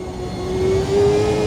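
A Formula Ultimate Gen 2 racing car with a Mercedes-Benz engine in Automobilista 2 holds a steady, loud engine tone that rises slightly and then evens out, a continuous drone with no talk.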